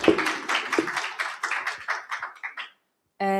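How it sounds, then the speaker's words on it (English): A small conference audience claps for a speaker in a short, scattered burst that thins and fades within about three seconds, followed by a brief electronic tone. "let's give our speaker another round of applause"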